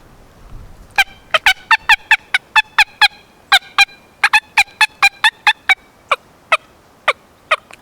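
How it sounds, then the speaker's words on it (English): Turkey cut call blown on a mouth diaphragm call: a loud, close run of about twenty sharp, high clucks in quick, uneven bursts, with no other sound. "For the cut, I say tick, tick, tick"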